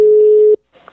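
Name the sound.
telephone ringing tone while placing a call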